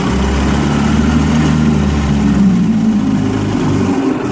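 A 1956 Evinrude Fastwin 15hp outboard motor idles steadily on a pond test, a loud, even low rumble that holds throughout with no voices.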